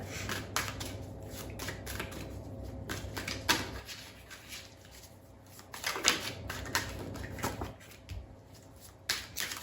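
Osho Zen Tarot cards are shuffled by hand in repeated soft riffling bursts with flicks and taps, close and fairly quiet, with short pauses between handfuls.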